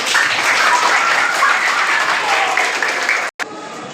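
Students at a school event applaud together in a loud, dense burst of clapping that holds steady for several seconds, then cuts off abruptly.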